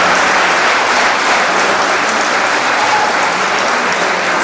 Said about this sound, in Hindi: उसके लिए मैं चाहता हूं हम सबके लिए एक बार जोरदार तालियां